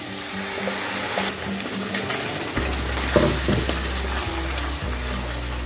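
Ground masala paste hitting hot oil in a pan for cauliflower gravy, a steady broadband sizzle with stirring scrapes and a low hum running underneath, close and fairly loud throughout.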